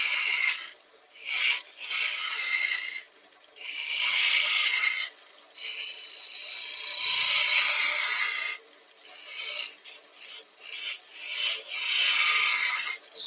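A tool hollows a wooden box on a woodturning lathe, producing repeated rasping, scraping bursts of uneven length separated by brief pauses, close and fairly loud.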